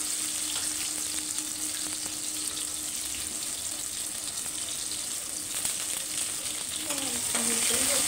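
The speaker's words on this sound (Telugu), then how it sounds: "కొంచెం కొత్తిమీర కొంచెం బాగా ఏగనివ్వాలండి" Coriander leaves sizzling and frying steadily in an Andhra-style chicken gravy curry, a continuous close hiss with a few faint clinks near the end and no talk.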